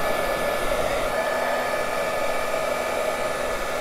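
Heat embossing tool blowing hot air to melt embossing powder on craft dangles, a loud, steady whooshing roar that holds unchanged the whole time with no voices.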